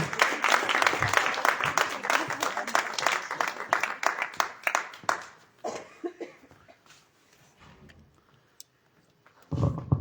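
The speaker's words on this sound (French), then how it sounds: "On peut l'applaudir, Michel Hervé." Audience applause fills the first half, dense and loud, then thins into scattered claps and a brief burst near the end.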